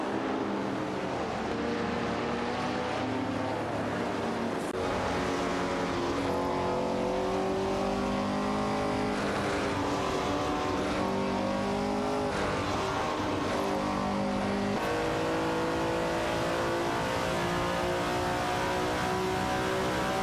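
A Porsche and other race cars run in a video game race, their engines droning in a steady, continuous layered hum with shifting revs and no break throughout.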